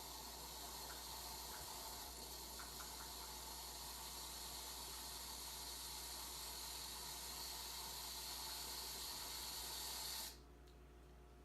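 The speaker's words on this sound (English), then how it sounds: "I hear the steam." Steady, loud broadband hiss of steam venting continuously from a pressure canner for about ten seconds, then cutting off abruptly, leaving a quieter background.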